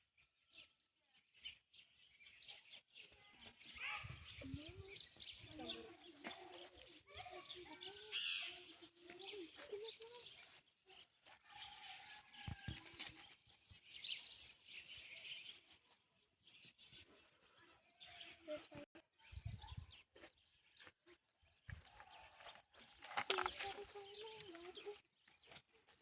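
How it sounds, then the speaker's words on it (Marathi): Birds calling and chickens clucking around a village school in a hilly setting. The calls are faint and scattered, with occasional soft voices in the background. "आम्ही आज पक्ष्यांचा आवाज ऐकत आहे"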